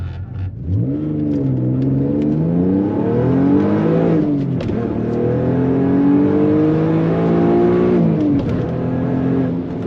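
A GT 3.2 V6 car accelerates hard from 0 to 100 on the autobahn, its engine note climbing steadily through the gears with brief dips at each shift, loud and close throughout.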